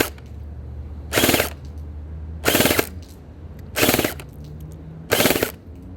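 A Bing Feng MK18 gel blaster fires four loud, evenly spaced bursts of rapid full-auto shots through a chronograph, each lasting about a third of a second, with a low motor hum and quiet gaps between them.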